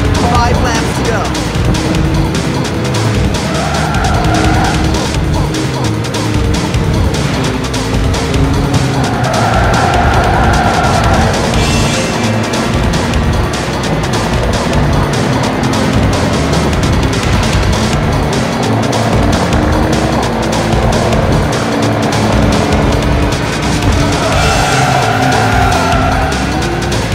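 Race cars in Ridge Racer V on the PS2 during an Ultimate GP race, engines roaring loudly and continuously with recurring tire squeals and skids as cars pass, and game speech now and then over the racket.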